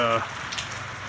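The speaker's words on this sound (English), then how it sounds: "it just started pouring rain" Heavy rain pours on an insulated van roof around midnight, a steady dense patter right after a brief voice at the start.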